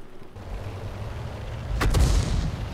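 Heavy tank cannon shells fired in an online war game, a continuous low rumble with a pair of sharp booming blasts near the end, moderately loud.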